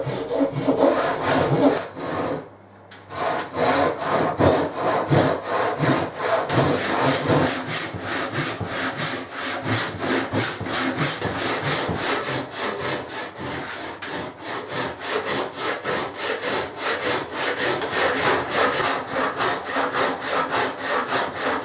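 Hand saw cutting wood for an archtop mandolin, a steady rhythmic rasp of back-and-forth strokes that carries on for a long stretch, loud and close, pausing briefly near the start before resuming.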